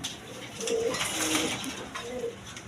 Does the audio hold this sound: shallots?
no